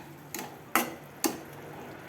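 A spoon stirs a banana-stem dish with chili in a cooking pan, making four crisp, evenly spaced scraping clinks against the pan over a quiet background.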